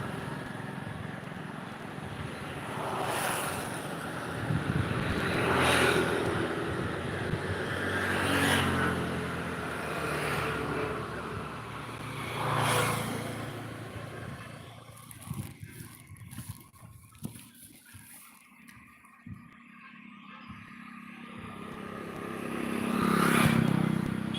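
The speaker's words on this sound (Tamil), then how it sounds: "இதில் வண்டி வருது பயங்கர ஸ்பீடில் வருது" A vehicle approaches at high speed and roars past, with repeated surging whooshes and engine noise rising and falling, a quieter gap, then another loud pass building at the end.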